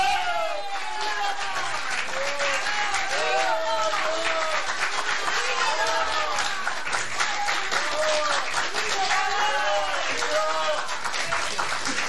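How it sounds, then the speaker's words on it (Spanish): A television studio audience applauds for Paz Martínez in a 1991 Argentine comedy show, with sustained dense clapping throughout and a host's voice speaking over it. "Pero fuerte el aplauso para el Paz Martínez"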